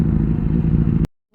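A BMW R18 motorcycle with a dual exhaust rumbles at idle with a deep, loud, close throb for about a second before cutting off abruptly into silence.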